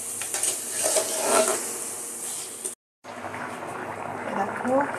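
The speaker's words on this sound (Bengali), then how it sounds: "ডিমটা কষে নিচ্ছি।" Eggs are fried and stirred with spices in a pan for an egg curry. There is a soft, steady sizzle with scraping stirs, a brief silent break halfway, and talking throughout.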